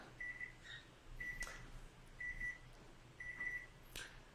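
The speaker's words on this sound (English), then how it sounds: "there's our timer" A coffee steeping timer gives four short, faint electronic beeps at an even pace, each a quick double chirp, against quiet room background.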